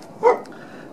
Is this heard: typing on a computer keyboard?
no